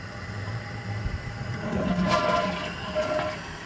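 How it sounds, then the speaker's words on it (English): A toilet tank flushing after a repair with Gorilla heavy-duty construction adhesive, heard as a steady rushing swirl of water with no talking, fairly quiet and continuous. "So go ahead and flush it."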